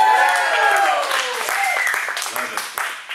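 Applause at a cowboy church event, crowd clapping mixed with rising and falling cheers and hollers, fairly loud, tapering slightly as a voice speaks over it.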